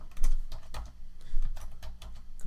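Code being typed on a computer keyboard, a steady stream of close, crisp key clicks at an even rhythm over a low background hum.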